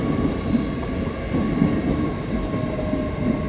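A train rumbles at Doncaster station platform, steady close rolling noise of coaches with faint wheel clatter and no talk.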